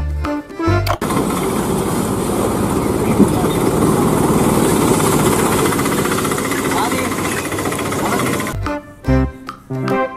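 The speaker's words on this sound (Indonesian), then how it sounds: "Di sini juga ada bentor alias becak motor." Motorcycle rickshaw (bentor) engine, heard as a loud rough continuous revving drone for several seconds, bracketed by brief music at the start and end.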